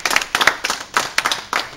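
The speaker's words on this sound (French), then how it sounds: "On peut applaudir." Applause honours a departing maintenance worker at a vocational high school, a small group clapping in loose, uneven bursts, with distinct individual claps rather than a dense roar.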